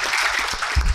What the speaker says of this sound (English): Ladies and gentlemen, a warm round of applause for Dr. Deepak Pental.